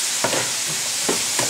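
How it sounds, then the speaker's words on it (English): Seasoned stuffing for a pork loin sizzles in a hot pan, a steady close-up frying hiss broken by a few soft stirring scrapes, with no voices. "it's starting to sizzle"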